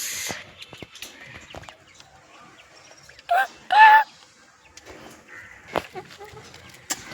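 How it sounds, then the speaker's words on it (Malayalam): A couple of short clucks from a chicken in a backyard coop stand out amid quiet rustling and scattered small knocks, close by. "ഇതെൻ്റെ വീട്ടിലത്തെ കോഴിക്കൂടാണ്"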